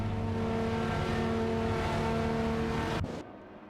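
GT race cars on track in a racing video game make a steady, droning engine whine that holds for about three seconds and then drops off abruptly.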